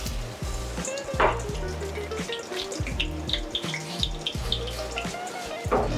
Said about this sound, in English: we need to throw all the water here. You can just strain the rice